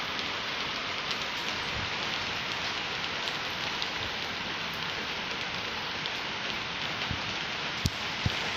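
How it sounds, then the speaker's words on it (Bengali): Steady rain falling outside a window, an even, dense wash of patter with occasional sharper drips, continuous and moderately loud with no voices. "দেখো বৃষ্টি পড়ছে"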